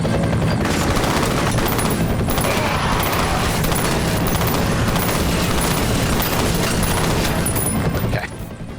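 Loud, dense gunfire from the video game FEAR Extraction Point, with continuous bursts and booming shots filling the whole stretch before cutting off abruptly near the end, with some talk mixed in.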